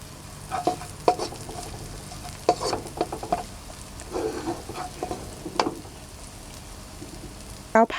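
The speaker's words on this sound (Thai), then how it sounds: "ผัดจนกระทั่งหอมนะคะ" Coriander root and ground pepper being stir-fried over low heat for a Thai fried tuna snack, giving soft intermittent sizzles and spatula scrapes, fairly quiet and close, with no talking.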